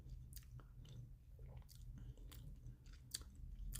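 Seaweed snack being chewed close to the mic, with scattered crisp crunches and bites over a low steady background hum, no talking.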